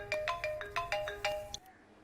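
A mobile phone rings with a quick repeating electronic ringtone, about six bright chirps in steady rhythm, fairly faint and close, and the call goes unanswered before the tone cuts off abruptly.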